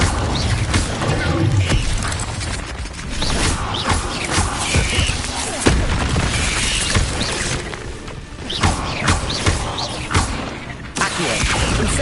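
Incendio fire spell cast in Hogwarts Legacy, heard as loud bursts, whooshes and crashing impacts over dense game ambience, with a voice faintly present in the mix.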